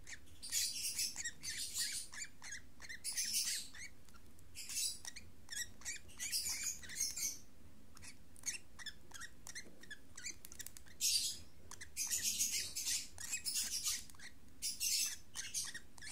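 Baby lovebird chicks, Albino or eye-ring lovebirds, call during hand feeding: repeated high squeaky chirps in bursts, fairly close and steady, with a low background hum and no talking.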